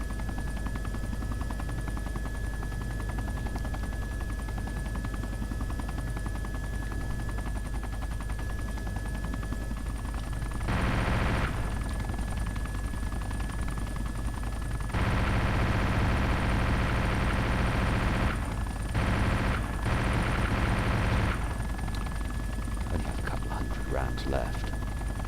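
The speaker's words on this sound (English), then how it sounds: "I can hear people shooting at me," In the survival game DayZ, gunfire rings out in bursts amid a constant droning engine or rotor hum. Several louder rattling volleys stand out over the steady noise, and a player talks at times.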